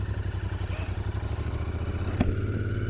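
A 2021 Royal Enfield Continental GT 650 motorcycle rides along with its engine thrumming in a steady, close, low pulsing note, plus a brief clatter partway through.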